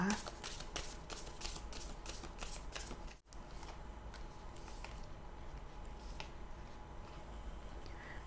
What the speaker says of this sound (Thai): แม่มดจะขอเปิดไพ่ super attractor นะคะ